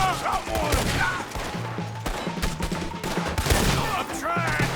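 Gunfire during a wagon-pushing shootout in the video game Red Dead Redemption 2, a dense fusillade of overlapping shots near and far under shouting voices and battle noise.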